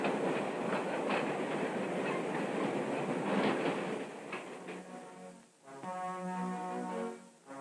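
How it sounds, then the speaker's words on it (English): Mail train running on rails in the 1950s, a continuous loud rumble and clatter of wheels that eases, then a sustained horn-like tone near the end. "The train pulled into the station on time."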